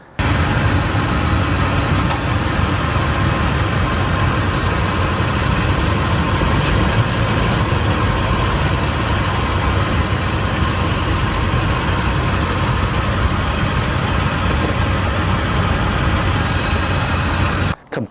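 A Lexus GX460 truck engine runs steadily as the vehicle drives down a driveway and turns, a loud, continuous low rumble and hum recorded from underneath the truck, with no talking.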